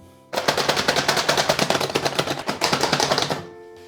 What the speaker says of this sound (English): I'm putting those into my lovely little crusher machine. It's noisy again.